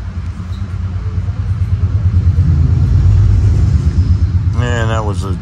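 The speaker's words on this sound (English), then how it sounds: "that was a General Electric dual mode locomotive pushing in New Haven Heritage livery" A General Electric dual-mode locomotive in New Haven Heritage livery pushes a Metro-North train past, giving a loud, close, steady rumble that swells and stays heavy throughout, ending with a rising horn-like tone.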